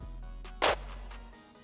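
A single short, bright clap pitched down 12 cents, with a crisp rimshot click layered in for extra high end, followed by a soft reverb tail.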